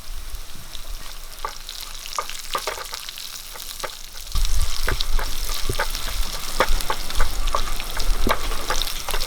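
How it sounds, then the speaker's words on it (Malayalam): Curry leaves and green chillies dropped into hot oil for a sardine curry, crackling and spitting in sharp bursts that grow louder and denser midway, close and sustained without talk. "രണ്ട് രണ്ട് കരിയാപ്പല ഇട്ട് കൊടുക്കും"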